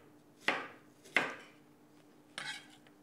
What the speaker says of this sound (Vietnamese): Củ hành tây thì chúng ta sắc muối,